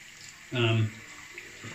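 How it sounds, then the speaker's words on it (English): Water tipped out of a shaving lather bowl holding hard triple-milled shaving soap, one short splashing pour into a sink that ends quickly, followed by faint quiet handling noise. "Pour out that water."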